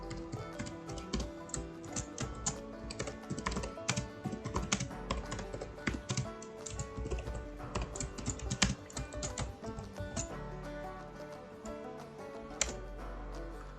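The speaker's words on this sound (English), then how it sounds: "now type the command mudopy.download in order to download this song provided by the user" Continuous typing on a computer keyboard as a command is entered, a steady patter of close, crisp key clicks running throughout with occasional heavier keystrokes and no talk.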